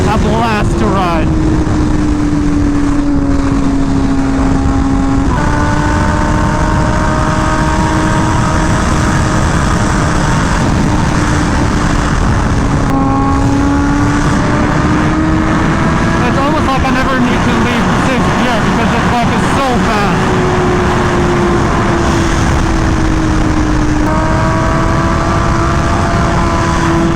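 A BMW M1000RR sport motorcycle engine drones steadily while riding, its pitch rising and falling with throttle changes under heavy wind rush.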